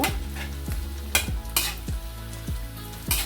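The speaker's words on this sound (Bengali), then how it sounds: "এটা যেহেতু আমি অল্প তেল দিয়েছি সেই ক্ষেত্রে একটু সময় নিয়ে ভাজতেছি" Chicken nuggets frying in a small amount of oil in a pan, with a steady sizzle punctuated by several sharp scrapes and knocks of a utensil stirring and turning the pieces; no one speaks.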